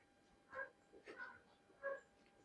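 Young puppies at a Hyderabad kennel, a brown male and two females, let out a few short, high yips and whimpers in quick bursts, close by but fairly quiet.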